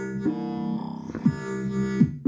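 Pocket Operator synthesizer playing a tonal, buzzy sequence of sustained notes with small pitch steps, a few clipped attacks, heard alone and fairly steady in level.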